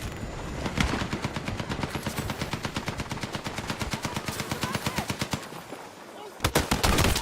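Rapid automatic gunfire from a Counter-Strike style online shooter match, long bursts of evenly spaced shots near and loud, a short lull, then another burst.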